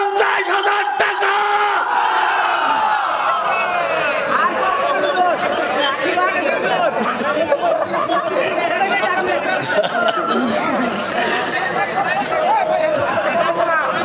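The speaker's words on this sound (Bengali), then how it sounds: "জোরে বলেন মারহাবা, নারে তাকবীর" A large crowd at an Islamic mahfil gathering in Sylhet roars Marhaba and Takbir in loud, sustained unison, the chant rising and swelling while a preacher's amplified voice leads them.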